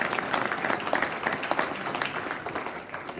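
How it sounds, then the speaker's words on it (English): An audience at a builder-association lunch applauds for a few seconds, a dense, moderately loud patter of many hands filling the room. "Let's give her a round of applause."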